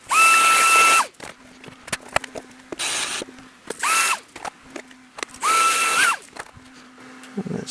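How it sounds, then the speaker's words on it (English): A power tool deburrs a drilled hole in metal, whirring in three loud, steady bursts of about a second each, separated by quieter clicking and handling noises, close by with no talking. "Give the hole a little deburr."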